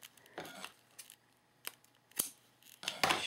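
Scissors snip through twine with a few short, quiet crisp cuts spaced apart, close up in a still room.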